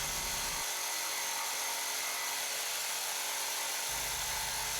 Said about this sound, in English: Now I'm going to demonstrate using the jigsaw.